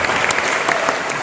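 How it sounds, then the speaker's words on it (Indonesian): Loud, dense applause from an audience at a community gathering, close and continuous for a brief burst with no pauses. "bisa tepuk tangan lah"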